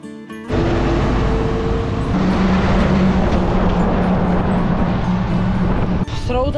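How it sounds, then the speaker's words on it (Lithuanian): Heavy road traffic on the approach to Sarajevo in Bosnia and Herzegovina roars past loud and close in a continuous rushing wash of passing cars. "Srautas mašinų"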